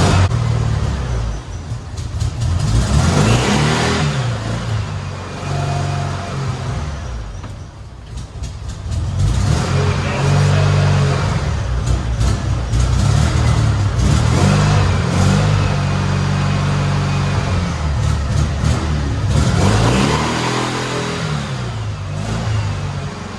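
A customized Porsche 911 RWB-style hot rod runs loud and close, its engine surging and revving in repeated rising and falling swells over a constant droning roar.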